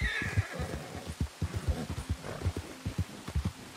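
A horse in the Red Dead Redemption video game whinnies near the start, followed by a steady run of soft, rhythmic hoof clops that continue through to the end.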